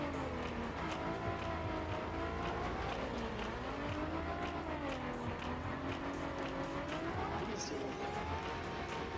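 In the VR racing game VRacer Hoverbike, a hoverbike accelerates with a whining engine tone that rises and falls in waves. It stays loud and continuous, with a person talking over it.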